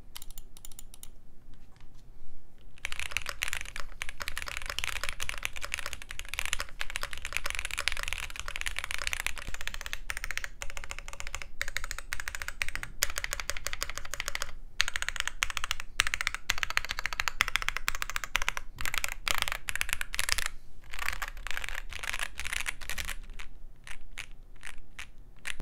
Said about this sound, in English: The sound of this board is very clacky with the stock Gateron CJs on PC plate.